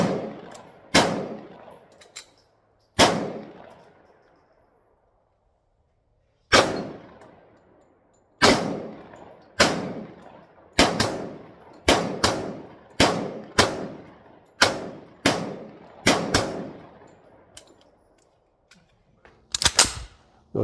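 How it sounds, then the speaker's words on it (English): A Sig Sauer P220 .45 handgun fired repeatedly: about fifteen loud, sharp reports, first widely spaced and then in a quicker steady rhythm, each with a short ringing decay and no talking. "So let's look at some shooting."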